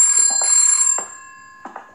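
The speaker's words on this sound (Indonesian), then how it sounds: "Oke, ini telepon." A telephone rings in the horror video game Headaches, set in a haunted house. Bright, electronic ring bursts repeat in short pulses with a pause between groups, clear and close in an otherwise quiet room.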